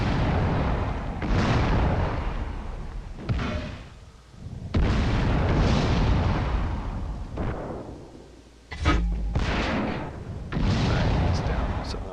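Tank shells hitting and exploding in the video game World of Tanks, a series of loud booming blasts with rumbling decay separated by brief lulls, including one sharp close impact near the end, while a voice talks over the action.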